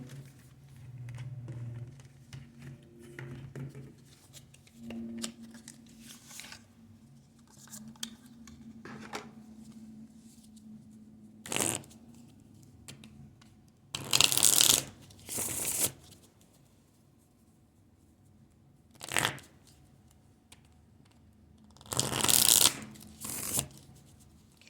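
Tarot cards shuffled for a spirit card reading: soft handling rustles at first, then several sharp riffle shuffles in short, close, crisp bursts separated by quieter pauses, with no talk.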